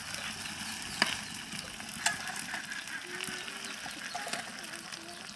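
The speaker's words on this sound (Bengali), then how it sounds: "ভাজতে ভাজতে লাল বানায় ফেলাইব, তারপর ভাজা হবে।" Red chilies frying in a pan, a steady soft sizzle and crackle running through the whole stretch, with a few sharp clicks of a utensil against the pan and faint voices in the background.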